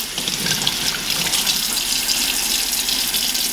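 DeLonghi bean-to-cup coffee machine dispensing hot water, a steady hissing stream of liquid pouring out close up, continuous and without talk.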